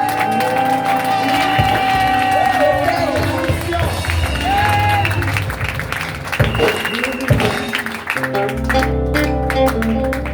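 A church congregation cheers and applauds at a national worship vigil. Loud crowd clapping, whoops and shouting fill the space continuously, with sustained music and voices mixed into the roar throughout.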